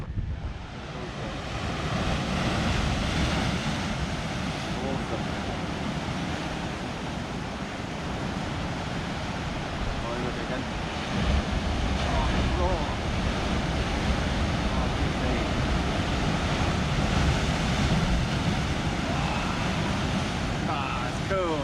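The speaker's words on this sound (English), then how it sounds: "Oh, look at the waves." Big rolling ocean waves in the Canary Islands roll and crash continuously, a loud, broad surf roar with wind noise throughout.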